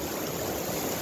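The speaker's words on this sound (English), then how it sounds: "See how the sluice is running." Creek water rushes steadily through a gold prospecting sluice box set in the stream, a brief, constant close wash and gurgle with no voices.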